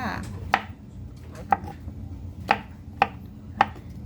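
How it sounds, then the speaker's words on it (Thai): Knife slicing mushrooms on a cutting board in a home kitchen: five crisp, separate chops at an uneven, unhurried pace, close and clear over a quiet background. "เห็ดของเราเราก็จะหั่นแบบนี้ค่ะ"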